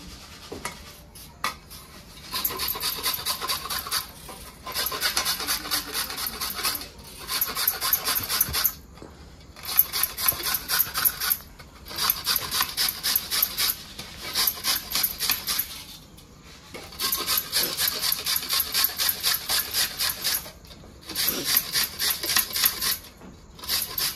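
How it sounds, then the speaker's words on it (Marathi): Carrots are rubbed over a hand grater into a plate with a steady rhythmic scraping, coming in repeated runs of quick strokes separated by short pauses, close and clear with no talk. "तर आता एक एक करून मी अशा पद्धतीने सगळे गाजरं किसून घेणार आहे।"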